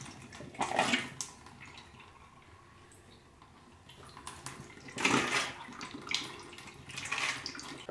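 Water flushes and drains out of a box, with a gushing burst early on and another longer surge later, close and fairly loud with quieter trickling in between.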